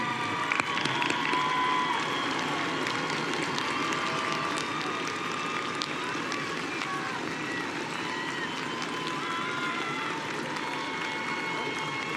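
Sustained applause from a large crowd, dense and steady throughout, with a slightly louder burst at the start and a faint murmur underneath.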